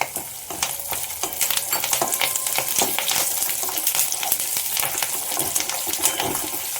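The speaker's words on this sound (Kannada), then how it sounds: "ಇದು ಪುಡಿಗೆ ಒಗ್ಗರಣೆ" Tempering of dried Byadagi chillies, curry leaves and black sesame fries in a pan for puliyogare powder, a close crackling sizzle with frequent sharp pops and stirring scrapes throughout.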